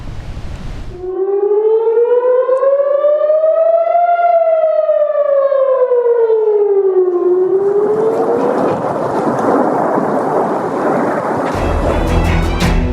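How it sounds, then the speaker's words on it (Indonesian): A loud wailing air raid siren over Tel Aviv rises slowly and falls, then gives way to a roaring wash of noise; it carries steadily, as if heard across open air. "Bunyi sirine terdengar mencekam di atas kota Tel Aviv."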